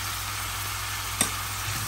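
Onion frying in oil in a pan with salt, a steady soft sizzle with a single brief clink or stir partway through.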